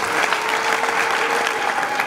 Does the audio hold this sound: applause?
yes